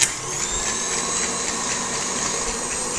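An electric whisk beating lemon zest into marshmallow fluff, giving a steady, high motor whine that runs unbroken and close for a few seconds.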